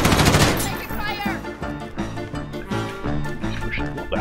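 Rapid automatic gunfire in a Call of Duty video game, a loud, steady rattling burst of shots from an enemy firing from behind, playing under game audio.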